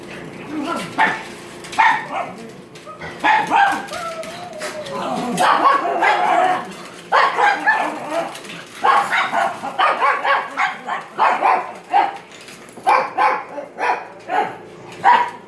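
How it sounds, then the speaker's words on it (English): Dogs bark repeatedly in short, loud bursts, with yips and whines mixed in, while a person talks over them nearby. "Harley, this is one of my older dogs."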